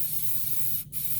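An aerosol can of acetone cleaner spraying onto a drain hole of a 2010 Nissan Rogue CVT, a continuous close hiss for about a second that stops with a brief gap, then hissing again.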